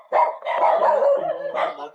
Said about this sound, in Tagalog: Napakarami po kasi mga aso